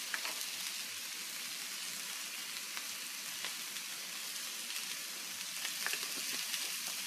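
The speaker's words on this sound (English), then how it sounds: "Just stir this all in and saute until tender." Peppers, onions and mushrooms sautéing in a pan, a steady, even sizzle and hiss of frying that holds continuously at moderate loudness with faint occasional crackles and no talking.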